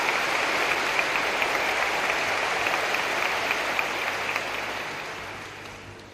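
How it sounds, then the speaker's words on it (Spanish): Sustained audience applause for Pope John Paul II at a gathering of business leaders, a dense wash of many hands clapping that holds steady and then gradually fades toward the end. "Muchas gracias por este aplauso."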